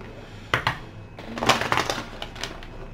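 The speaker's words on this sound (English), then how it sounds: "Do another shuffle here" Crisp papery riffling of tarot cards being shuffled, a few quick bursts of flicking and slapping close by, with no voices.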